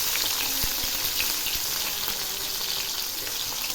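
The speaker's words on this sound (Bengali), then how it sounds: "প্রথমে আমি মাছের মুড়োটা ভেজে নিচ্ছি।" A hilsa fish head fries in hot mustard oil, giving a dense, constant crackling sizzle up close with a couple of light knocks, no voices present.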